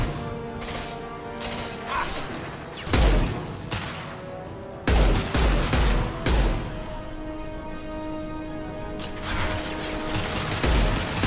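Gunfire from a heavy-recoil weapon in Mass Effect 2 Legendary Edition, loud bursts of shots and booms over a steady game soundtrack, with several sharp blasts spaced through the stretch.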